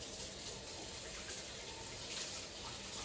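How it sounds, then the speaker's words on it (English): Tap water runs steadily into a kitchen sink while hands are rinsed, a constant moderately faint gushing hiss with no speech. "I'm just gonna rinse my hands quickly"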